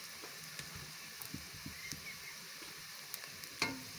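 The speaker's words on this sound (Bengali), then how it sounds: "এখন আমি আবারও খুব সুন্দরভাবে নেড়ে চেড়ে গরম তেলের সঙ্গে শুকনো মশলার উপকরণগুলো মিক্সড করে নিচ্ছি" Turmeric and coriander powder with salt being stirred through hot oil in a pan, a soft steady sizzle broken by light scraping strokes and occasional utensil taps, fairly quiet with no talk.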